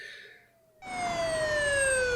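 Police siren in the video game GTA San Andreas, a wailing electronic tone that cuts in suddenly after a short near-silent pause and holds loud and steady, with a slowly falling pitch.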